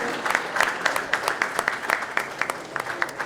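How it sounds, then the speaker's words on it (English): An audience at a clubhouse inauguration event applauds the company directors, a close, lively round of clapping with distinct rhythmic hand slaps standing out from the crowd. "Can you please have a huge round of applause, ladies and gentlemen"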